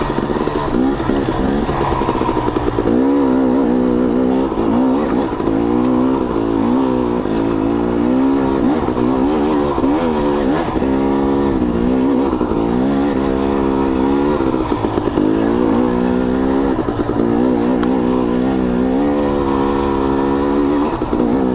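KTM 250 XC two-stroke dirt bike climbing a trail in low gear, engine droning steadily and close with rising and falling revs throughout, no voices.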